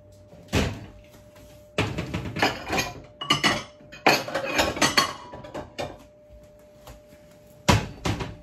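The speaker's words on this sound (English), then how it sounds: "I'm gonna plate myself up some." Dishes and cutlery clink and knock as food is plated into a clear bowl with rice, in a series of scattered, close clatters with pauses between them.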